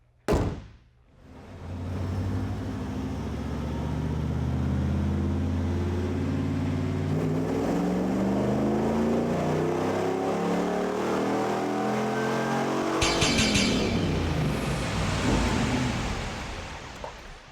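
A 1994 Camaro V8 with opened-up exhaust and cold air intake starts with a sharp burst, then revs hard and steadily climbs through a long loud pull on a dyno, with a brief metallic clatter near the end.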